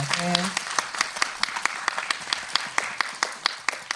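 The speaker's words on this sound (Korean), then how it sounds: "박수 좀 부탁드리겠습니다." A small group at a film festival screening talk claps in quick, uneven bursts, with a brief voice at the start before the clapping continues alone.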